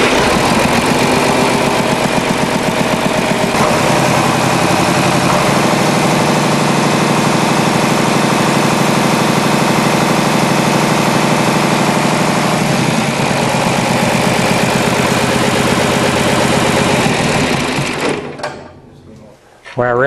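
A John Deere tractor engine running loud and close with a steady, dense mechanical drone and a slight rise as it revs, then cutting off abruptly near the end.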